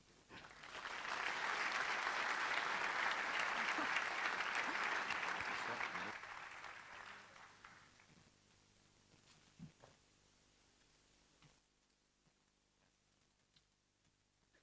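An audience applauds after a talk, with sustained, even clapping from a room full of people that swells quickly and then fades out. A few scattered claps and small knocks follow in the quiet that comes after.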